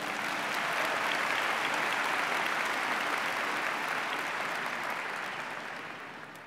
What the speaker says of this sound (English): Nope, you give a round of applause